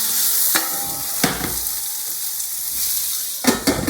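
Onions sizzle steadily in a pan for shakshuka, with a constant broadband frying hiss and a few sharp scraping stirs and utensil knocks standing out above it, close up and with no voices.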